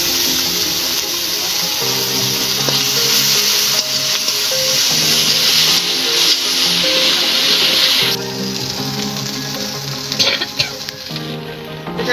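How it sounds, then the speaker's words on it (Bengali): Ginger, garlic and green chilli paste sizzles loudly in hot oil with turmeric for a jackfruit kalia, a dense continuous frying hiss with occasional stirring clinks, close and steady throughout. "এবার দিয়ে দেবো আদা, রসুন আর কাঁচা লঙ্কা পেস্ট।"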